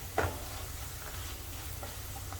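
Masala spices frying in oil for a Sindhi methi fish curry, a steady low sizzle with one brief utensil tap near the start.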